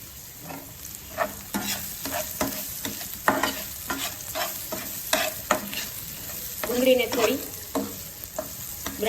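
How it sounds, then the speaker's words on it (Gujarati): Chopped onions sauté in a pan for a spiced millet flatbread dish, with a continuous close sizzle broken by repeated spatula strokes and scrapes at a steady stirring pace, and no voices. "આ બધું સારી રીતે આપણે સોટે કરી લેવાનું છે"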